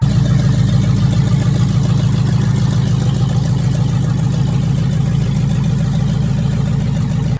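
A Land Rover Discovery 2 with a swapped-in 6.2 liter engine runs with a loud, deep exhaust rumble, held at a steady, continuous idle close by until it cuts off abruptly at the end.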